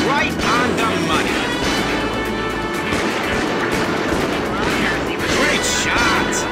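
Repeated gunshots ring out in the Starsky & Hutch video game, loud bursts of fire over engine noise as a voice talks.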